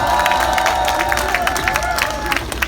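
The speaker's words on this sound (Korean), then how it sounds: "큰 박수 부탁드립니다." A rally crowd at an evening candlelight protest in Gwanghwamun, Seoul, applauds and cheers, with clapping bursts and scattered shouts over a sustained crowd murmur.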